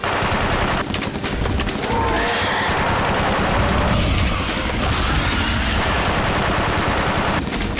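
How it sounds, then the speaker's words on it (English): Heavy, continuous automatic gunfire from several guns shooting at a giant monster in an action film, loud and dense bursts running through the whole stretch with crashing impacts mixed in. "Stop praying and start shooting."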